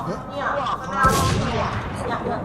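Gunfire in the online survival shooter Warz, a sharp loud shot burst in the middle with rumbling tail, preceded by game ambience and faint talk.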